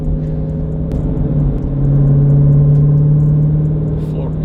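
A Jeep SRT heard from inside the cabin, its engine rumbling and droning louder and steadier as it accelerates on a neighbourhood street, with speech over it.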